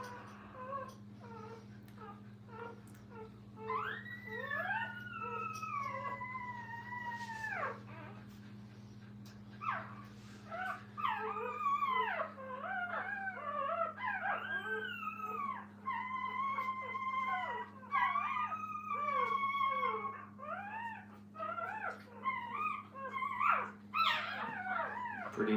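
Puppies in a kennel whimpering and howling, a string of high wavering whines and yelps close by over a low steady electrical hum, growing busier and more overlapping as it goes on.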